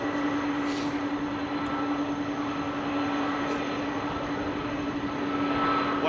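An Airbus A300 airliner at London Heathrow Airport makes a continuous, loud jet-engine roar with a steady high whine, holding constant throughout under windy outdoor conditions.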